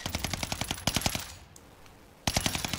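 Cooper Carbine gunfire in the video game Warzone Pacific comes in rapid, evenly spaced automatic bursts, loud and close, with a short pause before firing resumes.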